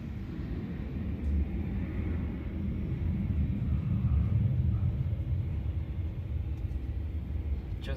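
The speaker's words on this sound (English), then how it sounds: "I heard this plane taking off." A plane taking off in the distance, heard as a steady low rumble that swells gently around the middle and holds broad and even throughout, with no voices.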